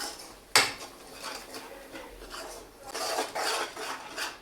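A spoon scrapes and stirs masala with garam masala in a pan, with one sharp metallic clank near the start followed by rough rasping strokes that grow louder toward the end.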